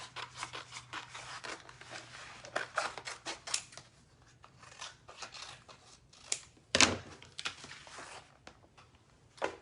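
Scissors snip through a stencil decor transfer sheet in a quiet room, giving a run of close, crisp cuts and rustles in uneven bursts, with a louder sharp snip near the end.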